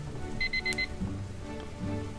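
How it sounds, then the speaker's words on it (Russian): An alarm clock gives a shrill electronic beep, four short pulses in quick succession, heard nearby over a steady patter of rain on a window. "Противный пищащий звук наполнил комнату."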